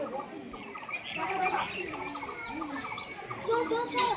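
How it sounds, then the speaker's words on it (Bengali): Pigeons in a loft, with soft cooing and scattered chirps and wing flutters going on steadily, close by, while birds move about and occasional voices murmur in the background. "দেখুন পায়রাগুলো দেখুন"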